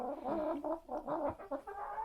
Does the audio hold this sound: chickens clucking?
yes